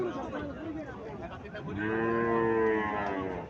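A Friesian dairy cow lows in a long, deep, rising moo, close and loud, with faint background chatter from people nearby.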